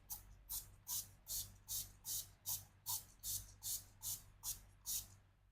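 Makeup setting spray, a Bundle-type all-nighter formula, misted in about thirteen quick, evenly spaced spritzes, each a short crisp hiss close to the mic with no talking.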